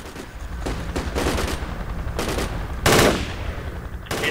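Machine gun fire in the military shooter Project Reality, a series of loud staccato bursts spaced across the moment, with one especially sharp close burst near the end and a brief final volley.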